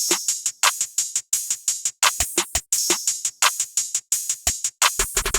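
Four different open hi-hat samples, bright sizzling cymbal strikes that ring briefly in a rhythmic pattern, with occasional low thumps in between.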